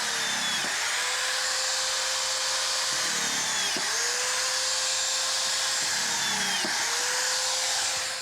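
A power drill runs at full speed driving fasteners into composite deck boards, whining loudly and steadily through three long bursts, each dropping briefly in pitch as a screw seats before spinning up again.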